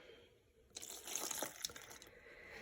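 Water pours briefly into a bowl of flour, a short splashing trickle of about a second amid quiet room tone.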